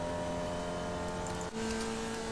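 A race car engine in the iRacing sim drones steadily at high revs, a smooth sustained whine with a brief dip at about the midpoint before resuming at a slightly shifted pitch.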